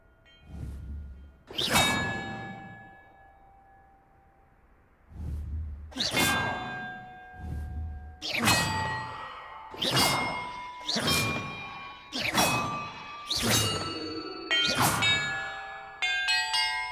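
Magical bells ring one after another during a puzzle trial in the video game Hogwarts Legacy. About eight loud, bright metallic strikes come in an uneven sequence, each with a long shimmering ring, and no one speaks.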